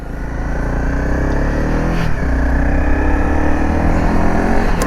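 Dirt bike engine running steadily while being ridden to a store in bad weather, a loud continuous motor drone with slight rises in revs throughout, close to the rider.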